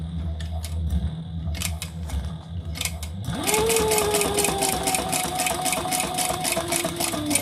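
A sewing machine stitching fabric lining starts with a few light mechanical clicks and taps, then runs steadily with a rapid, even whirring hum and rhythmic needle chatter, close by and with no talk.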